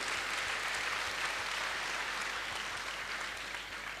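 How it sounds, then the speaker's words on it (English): An audience at a half marathon event applauds a deaf runner, a fairly faint, continuous wash of clapping heard from a distance and tapering slightly at the end. "first I'd like you to give him a big round of applause"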